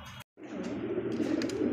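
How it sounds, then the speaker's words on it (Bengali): A racer pigeon coos close by in a soft, rolling, throaty call that swells and holds after a brief pause, with faint chirps mixed in. "এটা হচ্ছে অরিজিনাল রেসার কবুতর"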